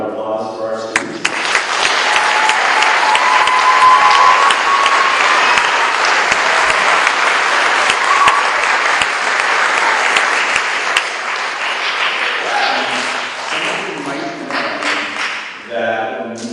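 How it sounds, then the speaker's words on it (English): A crowd at a school building ribbon cutting applauds students, dense sustained clapping filling the space for about a dozen seconds, with a voice speaking briefly before and after. "So one more round of applause for our students"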